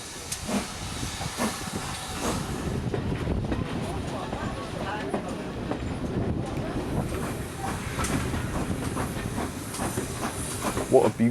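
Steam train on the Dartmouth Steam Railway: a continuous rumble and hiss of the train under way, with rhythmic clatter and faint voices of passengers in the background.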